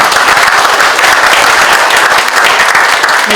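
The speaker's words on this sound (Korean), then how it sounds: "네, 여러분 큰 박수 부탁드리겠습니다." Dense, loud applause from an audience at a Korean crime-prevention ceremony award presentation, steady continuous clapping filling the hall without a break.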